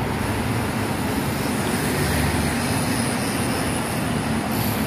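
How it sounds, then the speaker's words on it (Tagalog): A loud, continuous rumble of a train at an MRT station fills the clip, a steady rushing roar with a faint high whine above it. "So, ayan guys, yan na yung MRT station."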